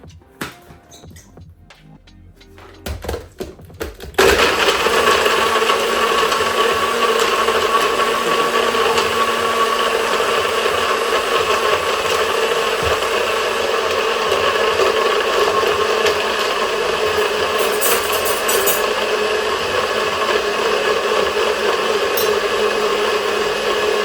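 A blender runs steadily and loudly for around twenty seconds, a constant whirring motor drone that kicks in abruptly after a few quiet seconds of clatter.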